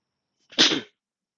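An older man gives a single short, sharp sneeze close by, isolated in silence.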